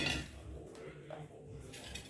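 A metal pot clanks and scrapes briefly on a hard surface in a kitchen, close by and fairly soft, with no talking.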